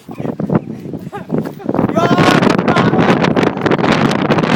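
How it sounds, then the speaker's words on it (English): Strong tornado wind roars and buffets the microphone in Pandale, building from gusty bursts to a steady, loud blast with people talking and shouting over it. "Oh my God, look at this wind. It's a tornado out there."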